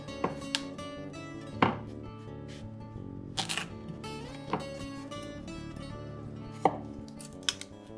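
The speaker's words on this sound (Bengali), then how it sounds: "প্রথমে আলু আর রাঙা আলুর খোসা ছাড়িয়ে ডুমো ডুমো করে এই তিন সেন্টিমিটার মতো কেটে নেব" Peeled potatoes and sweet potatoes cut into cubes with a knife on a board, irregular sharp chops spaced about a second apart, close and clear with no talk.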